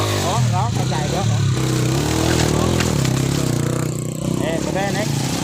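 Motorcycles ridden over a rough road give a continuous loud engine drone with shifting pitch, close by, while voices talk and shout over it throughout.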